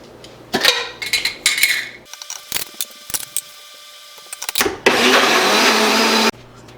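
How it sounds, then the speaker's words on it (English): A kitchen blender whirs while making a smoothie with freeze-dried almond and cashew nut milk, preceded by clattering and clinking of dishes and utensils, then a loud sustained blending roar near the end. "But I'm going to try and make a smoothie first."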